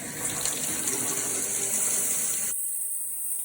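Water runs steadily from a bathtub spout as the shower valve diverter fails to send all the flow to the shower head, a constant loud gushing hiss that drops sharply partway through.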